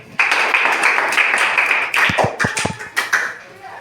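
Classroom students clap for a girl called up to the front, a short burst of dense close hand claps with a few louder separate claps near the end.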